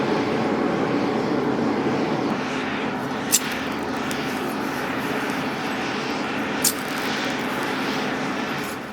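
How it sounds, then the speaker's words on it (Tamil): An electric air blower fans a blacksmith's forge with a steady, loud rushing drone that holds constant throughout, broken only by two brief sharp clicks. "இந்த இயந்திரத்தின் மூலமா தான் இதுல இருந்து காத்த உருவாக்கி அந்த அடுப்பை மிக வேகமாக எரிய"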